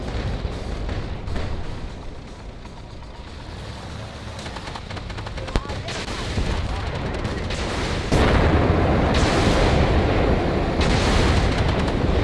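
Gunfire in a tank battle game with T-15, Bradley and Leopard vehicles: loud, dense rumbling bursts and booms throughout, growing heavier toward the end.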